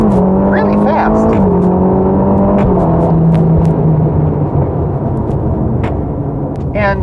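A Ferrari Roma accelerating hard, its loud engine droning steadily with quick pitch drops at each fast gear change, while a person talks over it.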